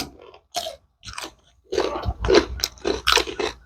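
Crispy crab being bitten and chewed up close, a series of sharp crunches and mouth sounds in irregular bursts, with short pauses between bites.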